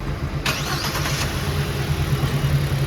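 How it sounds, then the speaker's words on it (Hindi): Hyundai Venue S 2025 car engine running, a steady idle hum with a brief rise in engine noise near the start, heard close up with no talking. "इंजन साउंड आपको"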